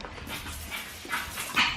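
A dog whimpers and whines in short, faint bursts over a noisy indoor background, the cries growing slightly louder toward the end.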